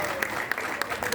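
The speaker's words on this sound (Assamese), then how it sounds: "যদি আপোনালোকে জবৰদস্ত তালি মাৰে" An audience at a business opportunity presentation claps, a brief dense patter of hands with a few sharper peaks, mixed with a bit of voice.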